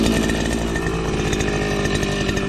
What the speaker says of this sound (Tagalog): At tayo po mag-grass cutter naman.